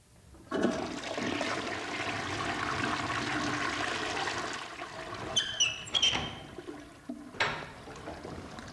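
A toilet flushes with a sustained rushing gush of water that tapers into trickling and refilling, followed by a few sharp clunks and a knock, heard alone at moderate volume.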